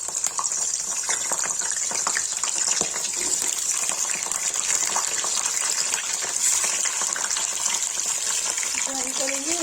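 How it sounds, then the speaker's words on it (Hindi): Tomatoes frying in hot oil for an Indian eggplant and potato curry give a steady, loud hiss and crackle throughout, with faint background voices. "टमाटर डाल के ये इसकी फ्राई करेंगे तेल में।"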